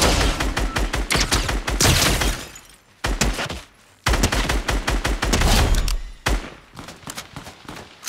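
Gunfire in Fortnite rattles in rapid bursts of close, loud shots, pausing briefly before the firing resumes in another fast volley.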